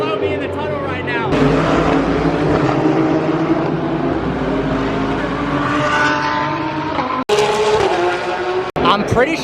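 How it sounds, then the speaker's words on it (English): GT3 race cars, including a McLaren 720S GT3, roar through a tunnel below, loud engine noise echoing and sweeping past with tire squeal, then abruptly cutting out near the end. "All the race cars are directly below me in the tunnel right now."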